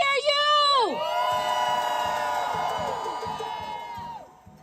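A crowd at a New York City rally calling for a ceasefire in the Israel-Hamas war shouts and whoops, with high rising and falling cheers over a steady murmur that slowly fades.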